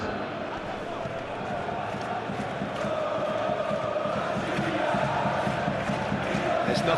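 A stadium crowd on football match day in a video game, a steady, building roar of many voices with a commentator talking over it.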